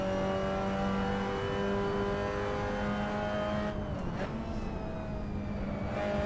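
Race car engine in Assetto Corsa, held in fourth gear with a steady loud high-pitched whine, its pitch briefly dipping and rising midway as the car moves through a corner.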